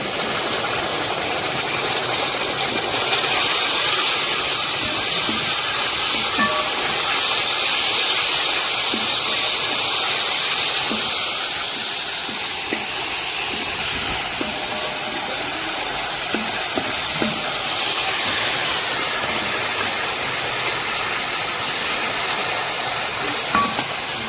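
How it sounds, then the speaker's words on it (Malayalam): Tomato sauce poured into a hot pan of chicken for rainbow chicken, a loud continuous hiss and sizzle that holds steady throughout with slight swells. "ഇതിലേക്ക് നമുക്ക് ടൊമാറ്റോ സോസ് ഒഴിച്ചു കൊടുക്കാം"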